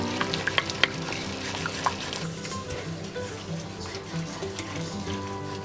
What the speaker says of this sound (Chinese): 先加一点热水，然后把底下的这些褐变物质给刮起来。